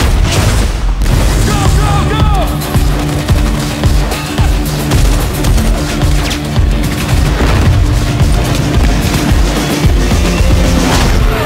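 Gunfire and heavy booming explosions from the video game Battlefield Hardline fill a loud, dense stretch of repeated shots, with voices speaking among the blasts.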